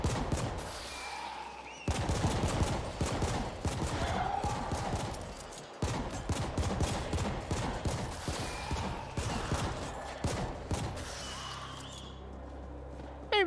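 Rapid, repeated gunfire from the video game The Ascent: loud, close shots in sustained bursts with brief gaps, and someone speaking now and then over the shooting.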